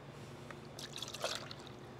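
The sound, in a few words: paint being poured from a can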